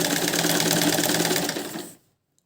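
Close by, a sewing machine stitches small frills onto a girl's lehenga, its fast rhythmic needle chatter running steadily for under two seconds before fading out and stopping.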